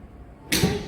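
A single sharp crack of a golf club striking a ball on a course, close and clean against quiet outdoor background.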